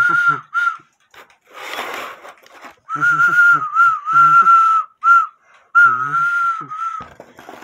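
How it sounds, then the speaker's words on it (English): A small quail-call whistle from a 1908 GK cuckoo quail clock gives repeated warbling, quail-like calls in short bursts, with breathy bellows-like puffs and brief hissing between them. "now that sounds like a quail"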